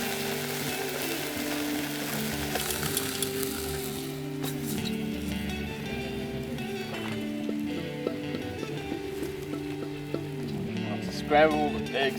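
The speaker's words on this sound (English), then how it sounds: "Right now I'm doing a scrambled eggs, got about a dozen eggs in here." About a dozen scrambled eggs fry in a wok set over a campfire outdoors, giving a continuous close sizzle with occasional scraping and stirring clatter and faint background noise.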